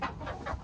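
Broody hen making odd clucking sounds, short close fowl vocalizations in quick bursts against a low farmyard rumble.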